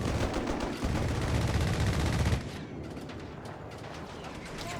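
Rapid .30 cal machine gun bursts in Company of Heroes 3 crackle densely for a couple of seconds amid battle noise, then fade to quieter distant gunfire and ambience.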